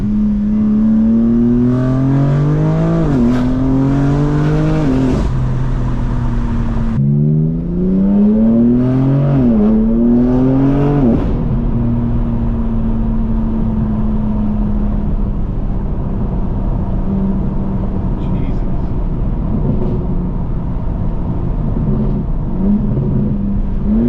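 A BMW M4 G82 with catless downpipes and air intakes revs hard twice in rising sweeps, then settles into a deep, rumbling idle close by.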